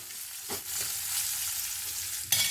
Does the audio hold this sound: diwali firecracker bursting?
no